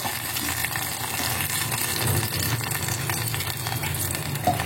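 Tamarind water poured into a hot pan for pepper kuzhambu hits with loud, steady sizzling and bubbling, a close crackling hiss that continues throughout.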